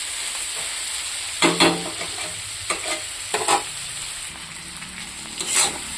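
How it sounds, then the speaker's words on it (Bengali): Cauliflower and other vegetables fry in a pan, a steady sizzle broken by several short bursts of scraping and clattering as the mix is stirred, with no talking. "দিয়ে আমি কিছুক্ষণ ভাজবো।"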